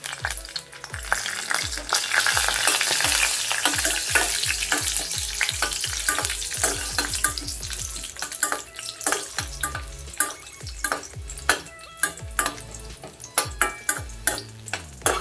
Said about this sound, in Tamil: முந்திரி நல்லா வறுபட்டுருச்சு. திராட்சை போட்டுடலாம்.